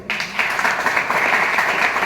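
An audience claps at a competitive-exam guidance lecture in Chiplun, a dense, steady wash of applause that holds for about two seconds with no voices over it.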